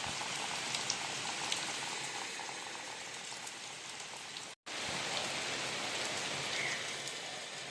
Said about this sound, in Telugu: వాన చూసారా, పొద్దున్నే ఎప్పుడో 8 గంటలకు తగులుకుంది.